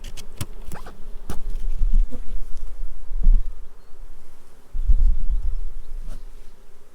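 Honeybees buzz softly around a hive during a honey harvest, the faint drone punctuated by scattered taps, knocks and low thumps close by.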